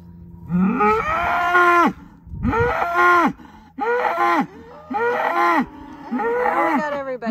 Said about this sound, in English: I hear like the lowing from the other side.